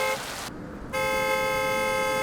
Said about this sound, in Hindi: अब ये कौन है पुलिस स्टेशन के सामने आकर हॉर्न बजा रहा है?